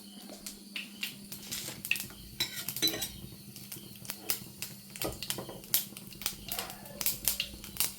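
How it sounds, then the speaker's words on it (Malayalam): Mustard seeds spluttering in hot coconut oil in a pan, a rapid scatter of sharp pops and crackles, close and fairly faint, with clinks of utensils. "കടുക് പൊട്ടി വരുന്നുണ്ട്"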